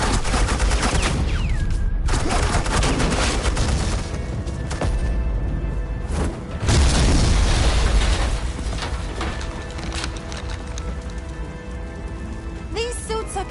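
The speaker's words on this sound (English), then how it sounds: "Suppressing fire." Heavy suppressing gunfire rattles continuously in the Telltale Batman game, a loud sustained barrage that surges midway and gradually thins out toward the end.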